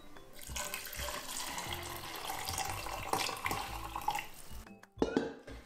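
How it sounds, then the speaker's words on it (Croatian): Reserved soup water for a traditional Bosnian begova čorba is poured steadily into a pot. The liquid gushes and splashes up close for several seconds, with light clinks of dishes near the end. "Znači dodajemo vodu koju smo ostavili od supe."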